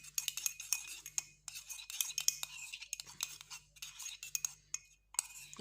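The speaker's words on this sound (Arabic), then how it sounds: "كنحركوها مزيان" A spoon stirs a cinnamon mixture with quick, light scraping and clinking strokes against the bowl, close and soft, in a steady irregular rhythm.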